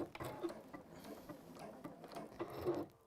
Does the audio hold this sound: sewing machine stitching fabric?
yes